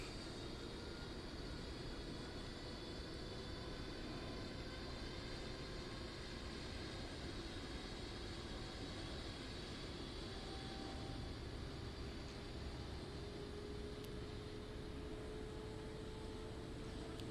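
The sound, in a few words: Rafale jet aircraft in video game DCS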